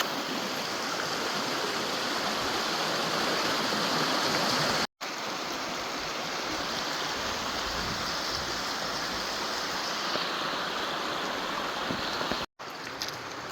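River water flows over rocks near Grand Marais, Minnesota, a constant close rushing wash that fills the whole span, broken by two brief dropouts.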